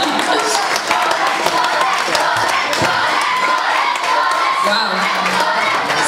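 An audience cheers and shouts after a live performance at a talent competition, a dense continuous roar of voices with scattered claps and whoops, and a single exclamation rising briefly above the crowd.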